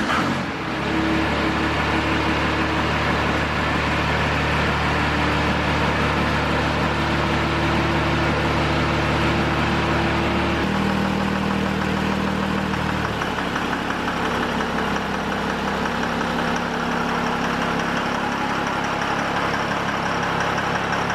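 A truck engine fires up for the first time and settles into a steady, loud idle with a constant rumbling drone and faint knocking, close by, with no voices.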